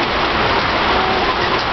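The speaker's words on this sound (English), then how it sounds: "This is us once again getting rained on in Germany." Rain falls steadily in Germany, a close, loud, continuous patter with no voices or other sounds over it.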